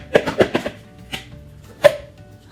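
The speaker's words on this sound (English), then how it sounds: "I'm just gonna plop it in this bowl." A 16-ounce tub of ricotta dropped into a bowl, with a quick cluster of soft, wet thuds and scrapes followed by one louder plop near the end, close up and without speech.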